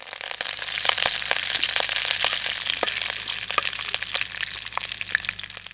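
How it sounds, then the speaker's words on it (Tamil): Mustard seeds spluttering and popping in hot oil while preparing a quail roast, a dense, loud crackle of sharp pops over a steady sizzle, continuous throughout with no talking. "எண்ணெய் நல்லா காஞ்சதுக்கப்புறம் கொஞ்சம் கடுகு அது கூட சேர்த்துக்கலாம்."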